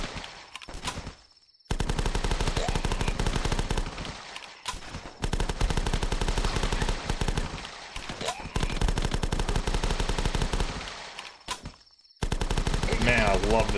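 Video game gunfire rattles in long, loud automatic bursts, broken by a few short silent gaps, with a voice partly under the shooting.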